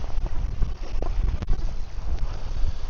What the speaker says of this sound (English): Daggone wind's gotten so bad it's ridiculous.